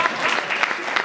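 Dense applause from an audience at a 2017 sales awards ceremony, continuous clapping with crowd noise and a voice faintly under it.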